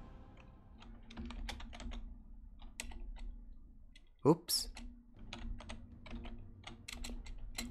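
Computer keyboard typing runs steadily in quick, irregular clicks, close and clear, with a brief loud burst midway as a person mutters a short exclamation.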